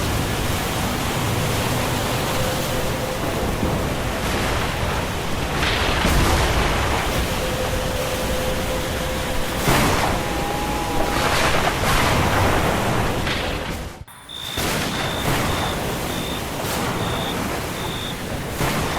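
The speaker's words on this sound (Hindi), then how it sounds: "फिर वह बादल माधोपुर में जमा होकर तेज बारिश शुरू कर देती है" Heavy rain in an animated cartoon pours in a dense, continuous hiss of broadband noise, with a brief dip partway through before the steady downpour resumes.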